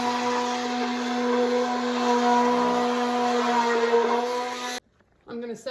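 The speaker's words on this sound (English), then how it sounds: "we're gonna add our oil into the milk mixture and to stick blend until it gets to a light trace." A stick blender whirs steadily as it mixes oil into a goat milk mixture for soap, a close, loud motor hum with a fixed pitch that cuts off abruptly, followed by brief talk.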